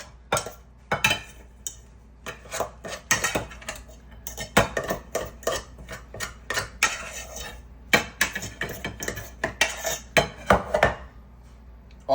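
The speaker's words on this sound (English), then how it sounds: "Just gonna take my rice out, put it on my plate." Rice is scooped out of a rice cooker onto a plate, with a string of close metallic taps, scrapes and clinks of a spoon against the pot and dish, irregular and fairly quiet.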